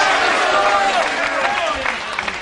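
Crowd applause for Earl Strickland and Davis at the 2003 World Pool Championship pool match. A steady wash of clapping runs loud for about two seconds, then thins out near the end.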